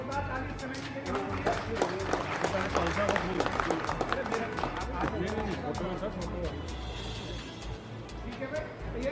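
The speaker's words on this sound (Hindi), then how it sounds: "तो मुझे लगता है कि भाई जोरदार ताली कमेटी के लिए" An audience at an LIC Chandigarh division Ambedkar Jayanti function claps and applauds for the newly formed committee, a dense sustained crowd clapping mixed with hubbub and someone speaking over it.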